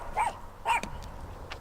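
Small dogs barking nearby, a few high yappy barks in quick succession with short gaps, loud and close against a faint background hum.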